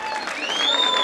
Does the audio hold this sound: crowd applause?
yes